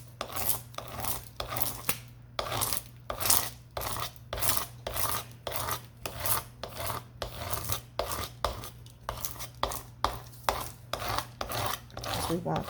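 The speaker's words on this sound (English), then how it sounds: "I'm going to scrape a scraper over all of it" A scraper drags repeatedly across a resin surface covered in printed images for a clutch purse. The dry, rasping strokes come in a steady rhythm of about two per second, each one close and crisp, over a low constant hum.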